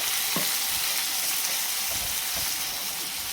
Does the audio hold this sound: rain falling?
no